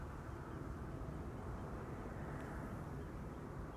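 Delta airliner departing Amsterdam Schiphol on a sunny day, heard as a steady, distant, low jet roar that holds evenly throughout.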